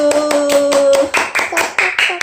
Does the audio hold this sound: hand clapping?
yes